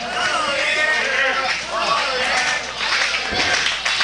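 Wrestling crowd at a CWF Mid-Atlantic event clapping and cheering to rally behind a wrestler, a steady dense wash of applause and shouting throughout, with an announcer talking over it.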